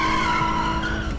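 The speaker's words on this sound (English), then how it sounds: "Do reverse donuts." Tires skidding and squealing on a front-wheel-drive car doing reverse donuts in GTA V, a loud continuous screech with engine roar, steady and close with no pauses.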